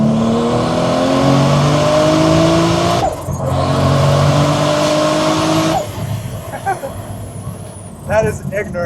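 A Toyota MK4 Supra engine revs hard through rising gears with a loud, sustained climbing roar, then drops away. Voices come in toward the end.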